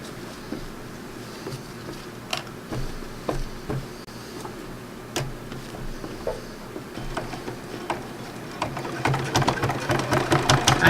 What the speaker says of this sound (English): Let me wind a bobbin with a dark gray.